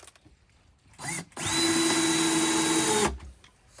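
Power drill driving a thick screw into a cabinet bracket in a camper build, a short whir followed by a sustained, loud, even whine for about two seconds before it cuts off, close by with no talk.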